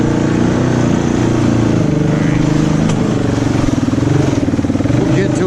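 A Honda 300 ATV stuck in two-wheel drive in a muddy backyard swamp, its rear tire spinning while the front stays still; the engine drones loud and steady throughout, with a voice talking faintly over it.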